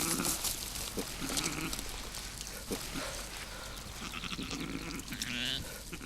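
Close, loud sheep bleats come in several bursts with rustling and handling noise as the animal is held outdoors in the Karachay-Cherkess Republic.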